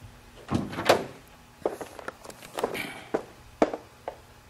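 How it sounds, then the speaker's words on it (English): Door of a gray 1956 Arnolt-Bristol Deluxe Roadster being opened, heard as a series of close mechanical clunks and latch knocks spread across a few seconds, with no talking. "Open the door."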